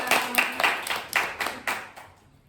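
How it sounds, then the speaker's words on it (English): A small audience at a piano group class claps for a student's bow: about seven distinct, close bursts of clapping in quick succession that fade out toward the end. "What's the audience's job? To clap and be quiet."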